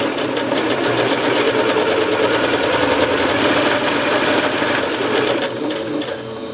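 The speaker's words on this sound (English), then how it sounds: "Now at the sewing machine, I'm going to stitch a 1/4 inch seam allowance on either side of that" A sewing machine stitches a quarter-inch quilting seam, running steadily at a fast, even rhythm, close up and loud, slowing slightly near the end.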